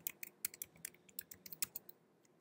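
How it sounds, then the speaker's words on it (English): A password is typed on a computer keyboard: a quick, uneven run of about a dozen close, crisp key clicks, fairly quiet and with no talking. "Let's go ahead and type in a password."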